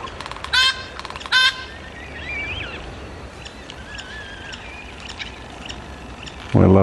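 Yellow-tailed black cockatoos feeding on Banksia cones give two loud, harsh calls near the start, with fainter chirps and calls in between and another loud burst at the end.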